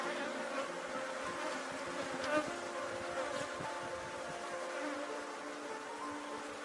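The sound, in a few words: honeybee swarm buzzing during hive inspection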